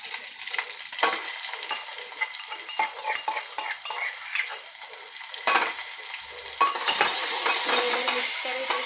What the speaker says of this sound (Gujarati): હવે એની અંદર આજે લીલા મરચાં, થોડું લસણ, જીરું એની પેસ્ટ કરેલી છે એ નાખી દઈશું।